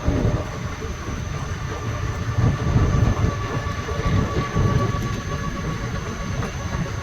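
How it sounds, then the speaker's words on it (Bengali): Rampurhat to Sealdah Maa Tara Express pulling into Sainthia Junction after crossing the Mayurakshi River: a loud, continuous rumble of rolling carriages heard from on board, with faint rhythmic rattling and a thin high whine. "ময়ূরাক্ষী নদী পার করেই ট্রেন সাঁইথিয়া জাংশন এন্টার করছে।"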